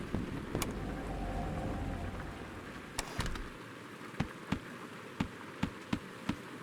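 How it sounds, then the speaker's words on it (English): Rain on a rooftop in the video game Out of Hands: a soft, steady wash of rain fades out, followed by a few distinct drips or taps falling at irregular intervals, quiet and with no voices. "You arrive at the rooftop as rain patters within the shadows all around"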